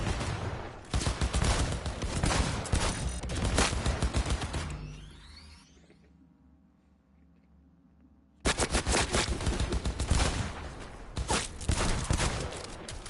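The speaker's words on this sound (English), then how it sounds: "I accidentally shot a police officer." Video game gunfire rattles in loud, dense automatic bursts for several seconds, falls to a near-silent lull, then erupts again in another long stretch of rapid shots.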